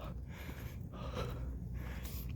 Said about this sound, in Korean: 이 숨소리 들리십니까?